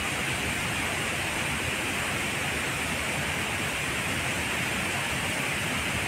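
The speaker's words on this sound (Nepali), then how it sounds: "मेरो पछि देख्नु हुन्छ चाहिँ यो झरना" A waterfall with 108 spouts on the Annapurna trek makes a constant, even roar of rushing water that fills the scene, with no voices.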